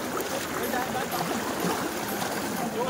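Rough, churning water and waves slap against a small boat on a trip off Sigay, Ilocos, a steady broadband wash filling the clip with faint voices underneath.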